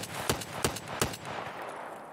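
Gunfire in the video game Escape from Tarkov: three loud, sharp shots about a third of a second apart, each with a short decaying tail, then a lingering ambient hum with no talking.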